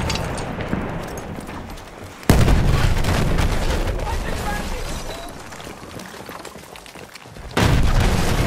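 Grenade blast in Battlefield 1 gameplay, a sudden loud boom that cuts in amid continuous gunfire and battle noise, with a second heavy burst near the end and player voices over the mix.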